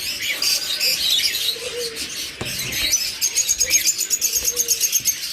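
A pair of high-mutation opaline pet birds call from inside a box, giving steady chirps and tweets with some cooing. The calls are dense and close, and grow more rhythmic toward the end.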